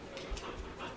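A dog pants in quick, soft breaths during a ball game outdoors, the rhythmic huffing close by and steady throughout the short moment with no talk over it.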